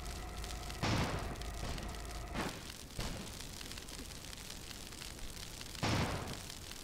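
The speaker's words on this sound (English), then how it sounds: "I can hit you with grenades!" Grenade explosions in an airship strategy video game, several booming blasts heard over a constant loud rumbling game soundscape.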